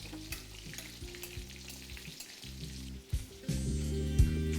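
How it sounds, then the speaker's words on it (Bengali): Pieces of katla fish frying in batches in hot oil give a dense close sizzle, with stirring and utensil scrapes and a louder surge of crackling toward the end, no talking. "আমি এটাকে ব্যাচ ওয়াইজই ভেজে নিচ্ছি।"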